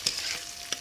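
Filling being stirred and fried in a pan with salt and turmeric for a vegetarian and non-vegetarian stuffed teasel gourd dish, with a few short scraping stirs over a soft, steady sizzle.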